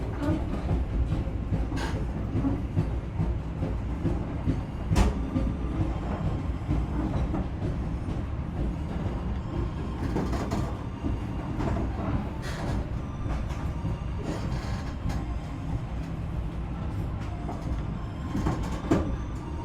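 The Bangunkarta Executive train rolls into Madiun Station at night, heavy rumble and rattling carriages with scattered clacks and sharp squeals from the wheels as it slows, steady and close throughout.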